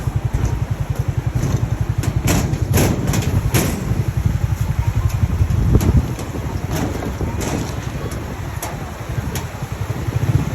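A motorcycle crosses a hanging bridge on a rural outing, its engine thumping in a fast, even pulse close to the microphone, mixed with heavy wind noise and a few sharp knocks or rattles.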